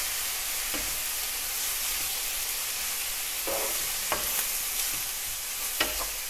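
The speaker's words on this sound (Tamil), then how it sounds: "இது ஒரு 2 நிமிஷம் வதங்கட்டும்." Grated beetroot sautés in a pan over low heat for beetroot halwa, giving a continuous soft sizzle broken by occasional scraping stirs of a spoon, with no talking.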